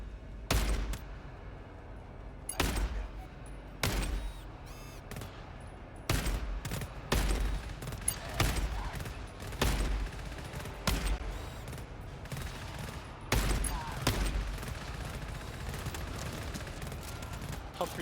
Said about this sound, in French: ça canarde